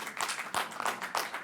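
A brief burst of audience applause at a telecom pitch event, a faint patter of clapping hands swelling in a few quick waves.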